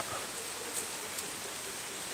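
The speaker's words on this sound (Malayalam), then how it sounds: "മലപ്പുറം ജില്ലയിൽ പരപ്പനങ്ങാടിയിൽ പെയ്ത മഴ കേട്ടോ" Steady rain falling in Parappanangadi, Malappuram, a continuous soft broadband hiss close by with faint patter, no voices.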